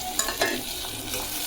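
Steady sizzling and crackling from chopped tomatoes and coriander sautéing in a hot pan, with a couple of brief stirring scrapes, continuous and close.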